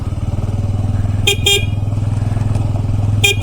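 A motorcycle climbs a rough uphill mountain road in first gear near Ravangla and Namchi in Sikkim, its engine throbbing steadily and loud. Two quick horn toots cut in, then another short honk near the end.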